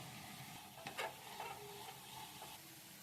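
Fresh mint leaves fry in oil in a pan while making chutney, a quiet, steady sizzle with a few brief stirring scrapes rising out of it, heard alone without talk.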